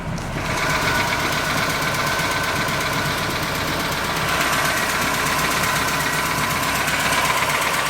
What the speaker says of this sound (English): This is the 4-cylinder Mercruiser. Runs great.